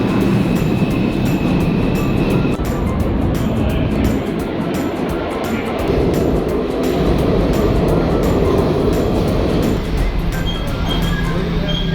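New York subway train ride toward Brooklyn's Avenue J station, a loud continuous rumble and rattle of the moving train with clacking over the rails and shifting mechanical noise.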